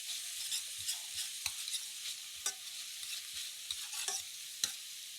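Crushed garlic sizzles softly in a pan, a faint steady hiss broken by light clicks and scrapes of stirring, with no voices heard.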